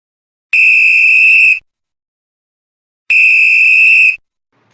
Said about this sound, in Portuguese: Apito pro segundo tempo